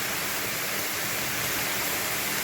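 Pumpkin stems and mixed vegetables fry in a kadai, giving a steady, dense sizzling hiss that stays even throughout with no distinct stirring strokes.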